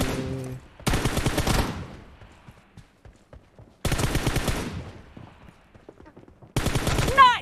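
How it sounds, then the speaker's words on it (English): Bursts of automatic gunfire crack out in PUBG Mobile, three loud rapid volleys separated by quieter gaps with scattered single shots and echoes, a voice speaking briefly between them. "Saya tembak dia banyak kot."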